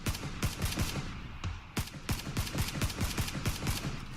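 Rapid bursts of automatic gunfire from a PUBG battle royale match crack out in dense, loud, uneven volleys throughout, with no voices over them.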